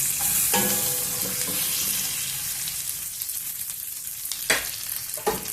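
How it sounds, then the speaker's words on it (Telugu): Turmeric and spices sizzle in hot oil for masala gutti vankaya, a steady soft frying hiss with a few sharper crackles and stirring clatters near the end. "కొంచెం పసుపు, కొంచెము నూనెలో బాగా వేగనిద్దాము."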